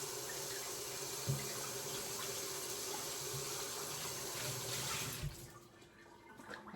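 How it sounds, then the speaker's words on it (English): Tap water runs steadily over the plastic lid of a Ninja Creami ice cream maker, a soft continuous splashing with a couple of light knocks, thinning out near the end. "I'm gonna rinse the lid."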